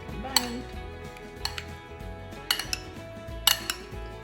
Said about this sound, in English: We're just going to mix it up a bit, get everything up combined.